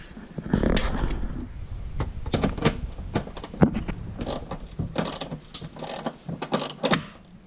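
A ratchet clicks repeatedly, removing a 10mm bolt from the front bumper of a Dodge Grand Caravan, with bursts of mechanical ratcheting and clinking close by and no talking.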